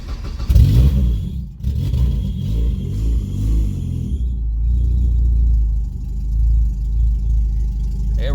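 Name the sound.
PT Cruiser engine with open header starting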